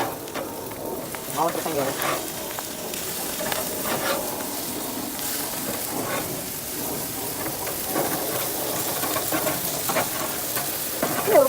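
Black bean turkey burgers sizzle steadily in a hot pan as they are flipped, with a continuous frying hiss and scraping of a spatula, while a person speaks briefly over it.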